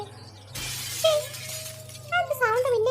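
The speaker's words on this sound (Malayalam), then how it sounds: "കേട്ടത് ഈ ചില്ല് പൊട്ടുന്നല്ലാതെ ആരുടെയും സൗണ്ട് കേൾക്കാനില്ല" Glass shatters with a sudden loud crash inside a house hall, followed by scattered tinkling debris, while a voice speaks over a low steady hum.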